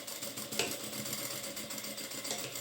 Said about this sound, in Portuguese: Então aqui eu costuro sobre a linha que eu marquei.